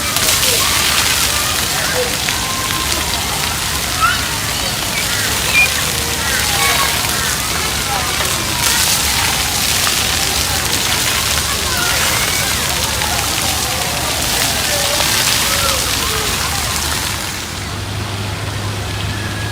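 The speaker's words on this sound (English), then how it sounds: "So this is a little water park down here." Water splashes and sloshes continuously at a small city-centre water park beside a man-made beach, a dense, loud wash of spray with no break.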